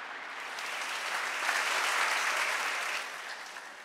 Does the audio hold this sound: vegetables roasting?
no